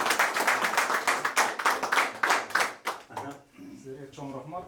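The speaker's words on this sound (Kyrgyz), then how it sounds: "Кол чаап калды ушуга" Several people clap together at the opening of a construction company's representative office in Moscow, a dense burst of hand claps for about three seconds that thins out, with voices talking afterward.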